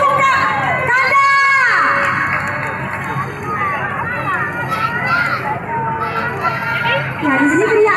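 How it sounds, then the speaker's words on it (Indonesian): Supporters at a children's junior roller skating race in Banda Aceh shout and cheer as a crowd, a loud continuous hubbub of children's and adults' voices with excited yells, while an announcer talks over the noise. "Mana teriakan pendukung Kak? Kanda."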